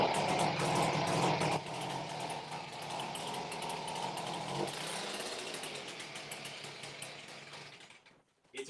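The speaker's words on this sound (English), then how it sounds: "Let me fire up that blower" A leaf blower runs close by on a cold day at a hardscape job site, a loud steady engine drone with a rushing air hiss that dips slightly after a moment, then cuts off abruptly near the end.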